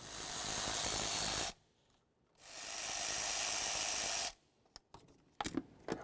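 Two long bursts of rapid buzzing from a ratchet or power driver loosening the 7mm ignition coil bolts on a 1999-2007 Chevy Silverado, close and loud, followed by a few small clicks and clanks.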